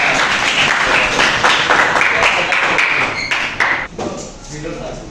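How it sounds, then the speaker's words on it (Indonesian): Classroom applause for students during a math lesson: a burst of clapping mixed with thumps and taps, fading after a few seconds, with voices chattering over it. "oke tepuk tangan buat mereka"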